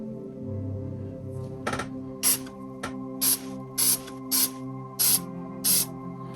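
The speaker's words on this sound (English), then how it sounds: "I'm going to start to gently spray." Short hissing bursts of clearcoat sprayed from a can onto the plastic hull of a Revell model of the research vessel Calypso, about seven evenly spaced puffs over a quiet background hum.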